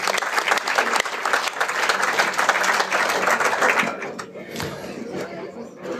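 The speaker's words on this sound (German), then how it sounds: "Noch ein Applaus." Audience at a science quiz breaks into lively applause mixed with chuckles and chatter, loud for about four seconds before tapering to scattered claps and murmuring.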